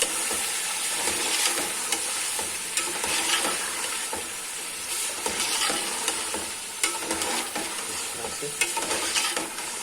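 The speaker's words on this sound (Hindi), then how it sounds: "थोड़ा सा भून लेंगे इसको टमाटरों के साथ और प्याज के मसाले के साथ।" Meat with tomatoes and onion masala sizzles loudly in a pan on full flame, with continuous frying crackle and repeated scraping stirs of a spoon, close up and without talk.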